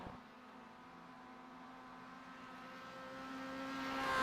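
A second-hand Mazda MX-5 race car drives at a club track day and heads up a mountain section, its engine a steady droning hum heard from inside or close by that swells louder toward the end.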